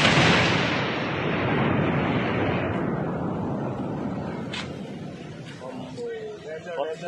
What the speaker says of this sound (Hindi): यह धमाका तीस्ता नदी के किनारे हो रहा है।